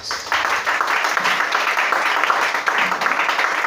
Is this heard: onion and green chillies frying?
no